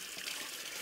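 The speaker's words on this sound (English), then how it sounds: "Make sure that you wash your leek thoroughly under the water here." Kitchen tap water running steadily while a leek is rinsed under the faucet for soup, a soft continuous gush of flowing water without any talking.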